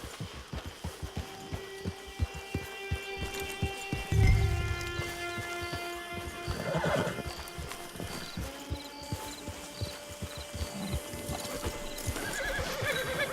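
A horse in Red Dead Redemption 2 walks with steady, close clip-clop hoofbeats throughout, letting out a loud whinny partway through, set against layered game music and ambience.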